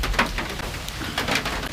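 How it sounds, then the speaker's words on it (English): Steady rain drums on the tin roof of a small shelter in a Costa Rican cloud forest, a close, continuous hiss with scattered brighter taps and bird calls in the background. "we're like surprised that it's raining"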